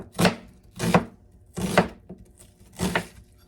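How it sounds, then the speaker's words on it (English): A knife rough-chops fresh garden ingredients for fire cider on a cutting board, making four heavy, evenly spaced chops close by with quiet gaps between them. "I'm just going to rough chop"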